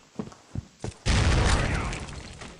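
Grenade explosion in the shooter game Critical Ops: a few light thumps, then one loud booming blast that rolls off and fades over about a second and a half.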